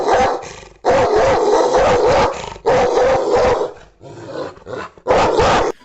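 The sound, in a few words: dog barking sound effect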